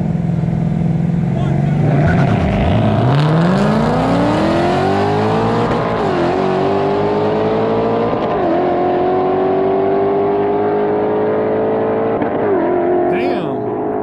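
A Ford Mustang Dark Horse and a Mustang Mach 1 race, V8 engines roaring loudly through rising upshift sweeps, revs climbing, dropping at each gear change and climbing again, with a voice talking over them.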